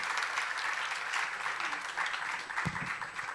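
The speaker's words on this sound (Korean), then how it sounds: "우리 한번 큰 박수로 맞이해 주시면 감사하겠습니다" Sustained audience applause fills a church conference hall as pastors are welcomed onto the stage for a closing panel discussion, steady and dense clapping throughout with a brief low thump near the end.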